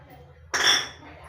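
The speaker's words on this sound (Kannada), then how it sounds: "ಸಾಸಿವೆ ಪಟಪಟ ಅಂತ ಸಿಡಿದೆ" Mustard seeds hitting hot oil for a drumstick-leaf bassaru sambar burst into a sudden crackling, spluttering hiss that peaks quickly and then fades over about half a second.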